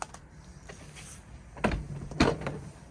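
The habitation door of a Chausson Titanium Ultimate 788 motorhome, on central locking, is unlocked and opened, giving two sharp mechanical clunks close by after a quiet lead-in.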